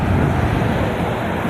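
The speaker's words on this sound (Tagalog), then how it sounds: "ito yung dagat" Sea waves wash against the shore at a fishing spot, heard as a steady broadband rushing mixed with wind buffeting the microphone. It is loud and continuous, and nobody speaks.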